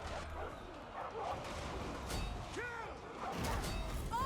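Dogs bark and yip amid battle noise in the Total War Arena video game, short bursts rising over a dense, fairly quiet wash of fighting sounds.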